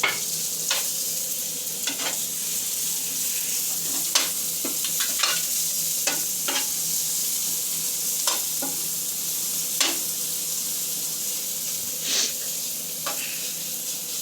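Onions and green chillies fry on a tava under a constant soft sizzle, while a spatula scrapes and taps against the metal at irregular intervals, close and clear with no talking.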